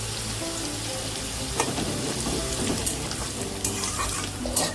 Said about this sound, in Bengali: তেলটা গরম হয়ে আসলে গাজর আর বিনসগুলোকে দিয়ে দিলাম, দিয়ে এখানে কিন্তু ভালোভাবে ভেজে নেব।